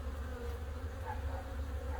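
Agitated honey bees drone inside a hive box holding partially drawn comb, a close, steady buzz with a low hum and brief higher whines rising over it, and no voices.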